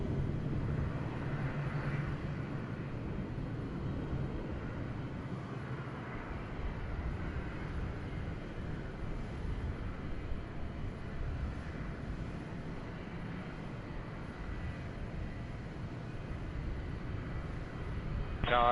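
Embraer E195 airliner taking off in Microsoft Flight Simulator 2020, a steady, broad engine roar holding at an even level throughout without pause.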